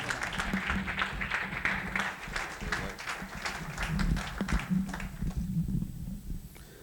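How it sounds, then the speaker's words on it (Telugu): Congregation at a church thanksgiving worship service applauding a guest reverend, steady crowd clapping under voices and a low hum, moderately loud and continuous. "రెవరెండ్ డాక్టర్ వి రంగరాజు గారిని ఆహ్వానిస్తుండగా చప్పట్లు కొడదాం"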